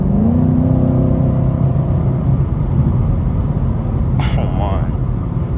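A Chevrolet Camaro 2SS accelerates with a steady, loud engine drone and rising harmonics throughout, while a person talks over it inside the car.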